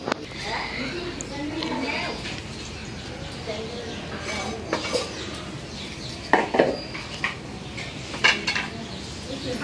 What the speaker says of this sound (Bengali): তরকারি রান্না করার জন্য কড়াই বসালাম।